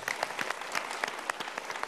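Audience applause at a motivational seminar in Indonesia, a dense steady patter of many hands clapping with no voices over it.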